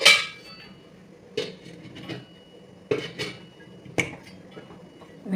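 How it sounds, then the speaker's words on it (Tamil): A metal lid is set on an idli steamer pot holding wheat rava idli batter, giving four sharp, separate clanks a second or so apart in a quiet kitchen. "மூடி போட்டு மூடிக்கலாம்."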